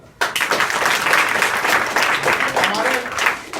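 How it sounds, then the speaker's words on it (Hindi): A school audience of children claps together in sustained applause, dense and steady from just after the start to the end, with voices mixed into the clapping. "वेरी नाइस, ताली बजाओ।"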